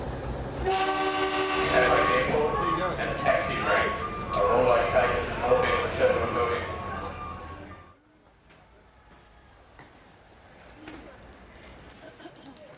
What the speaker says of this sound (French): Le train entre en gare d'Adélaïde